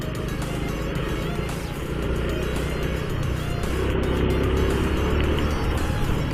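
A motorcycle rides along a Karawang road while overtaking, its engine a steady loud drone under continuous wind rush, with a rider voice faintly underneath.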